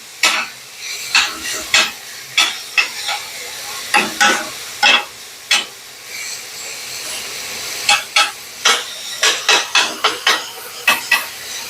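Venison meat frying in a pan, a soft steady sizzle broken by repeated sharp scraping and stirring knocks from a utensil, spaced irregularly throughout.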